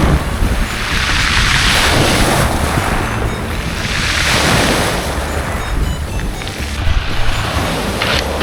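Sea waves wash onto Langdon beach near Dover in two long, loud swells of surf, rising and falling, mixed with heavy wind buffeting the microphone and no speech.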